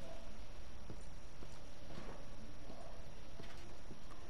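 Horse hooves walking in a video game, a steady clip-clop of individual hoof strikes over a constant, faint background hum of game ambience.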